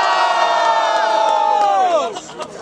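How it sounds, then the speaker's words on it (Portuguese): A crowd at a Brazilian student rap battle cheers, shouts and whoops loudly for a couple of seconds, the noise then dropping off with scattered yells. "Que gostou das rimas do Dobré, faz muito barulho"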